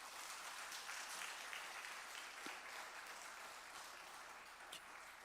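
A church congregation at a Korean Immanuel Church service breaks into sustained applause, a soft, even roar of many hands clapping from a distance without letting up.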